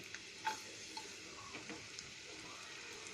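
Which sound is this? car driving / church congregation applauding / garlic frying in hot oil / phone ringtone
garlic frying in hot oil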